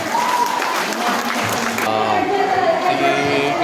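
Crowd applause at a mayor's Christmas gift-giving event, a loud, dense burst of clapping with voices mixed in, thinning partway through as the clapping eases.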